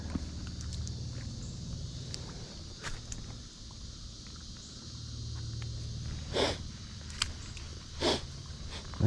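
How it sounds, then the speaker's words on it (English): Footsteps wade and slosh through a Florida creek while searching for old bottles at a dump site, with occasional louder splashing steps standing out over a steady, faint watery background. "we're slogging the creek, looking for bottles"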